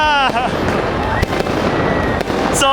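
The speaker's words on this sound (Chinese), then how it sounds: "10秒的烟火" Fireworks burst during a New Year's Eve night in Turkey, a string of sharp pops and crackles spread over a few seconds, loud and fairly near, with people chattering and exclaiming over them.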